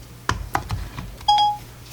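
A phone's Siri voice assistant gives short electronic response tones: a few soft clicks and blips, then a clear sustained tone, close by in a quiet room.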